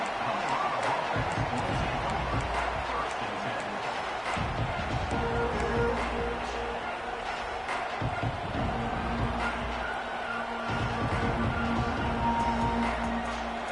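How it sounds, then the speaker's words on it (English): Simulated stadium crowd noise from the NCAA 26 college football game, a broad steady roar sitting under continuous play-by-play commentary from a male announcer. "This crowd ready to make its presence known."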